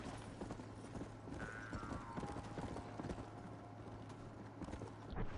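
Hooves of a horse in the Red Dead Redemption video game clop in a quick galloping rhythm, faint and steady, with brief whinny-like tones and no talk over them.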